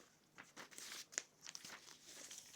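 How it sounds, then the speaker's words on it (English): Paper advent calendar prompt cards being shuffled by hand, close and soft: dry crinkling and rustling with a few sharper flicks in irregular bursts. "I'm shuffling them"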